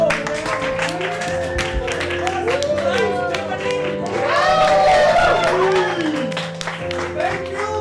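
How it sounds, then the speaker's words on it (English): Applause and clapping from an audience at a live improv comedy show, a sustained round of claps with voices and cheers mixed in, loud and close throughout. "a big round of applause for Cosmo."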